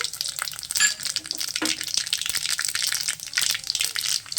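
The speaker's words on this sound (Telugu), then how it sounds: "నూనె ఇలా వేడి అయిపోయిన తర్వాత ఇందులోకి ఈ మూకుడులోకి ఆవాలు జీలకర్ర" Mustard seeds, cumin and fenugreek crackle and sputter in hot oil in a pan, a dense, steady run of close popping and sizzling with sharp bursts through the clip.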